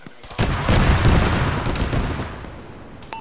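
A gunshot rings out in the military shooter Arma during a ShackTac session, a loud close crack followed by a long rolling echo that fades over a few seconds.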